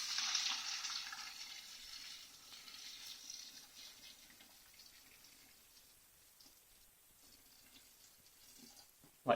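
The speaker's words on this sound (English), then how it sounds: "We want it to be hot when we pour it over the berries." Hot sugar water is poured over elderberries into a fermenter, a soft splashing pour that starts stronger and tapers off into quieter trickling and patter.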